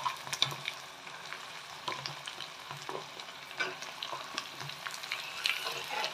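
Potatoes and pointed gourd frying in a pan for a dry sabzi, a quiet sizzle with repeated scraping and tapping of a spoon as the vegetables are stirred.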